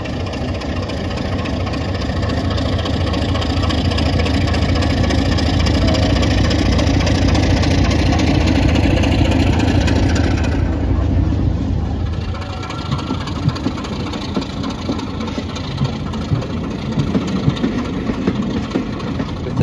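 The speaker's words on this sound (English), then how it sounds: "I then drove to Buckfast Lee in time to watch Class 33 Crompton depart with the service" A Class 33 Crompton diesel locomotive on a heritage railway departing with a passenger service, its steady loud engine drone holding for about ten seconds before dropping to a quieter, rougher rumble as it pulls away.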